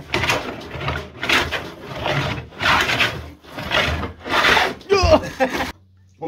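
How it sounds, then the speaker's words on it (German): A sander works over a wooden coat-of-arms shield in repeated strokes, rising and falling in a steady rhythm of about six passes before stopping. "der Schleifer in ihr schleift. Jawohl, schleift man ein bisschen."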